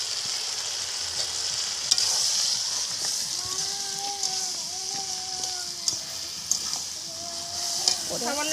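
Vegetable chorchori frying in a pan just after mustard paste goes in, a continuous sizzle with a spoon or spatula scraping and stirring through it and a few sharp knocks against the pan.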